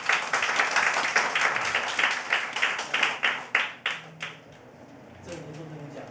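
An audience at a lecture applauding to welcome a professor: brisk, loud clapping from a room of people that fades out over several seconds before a voice begins speaking.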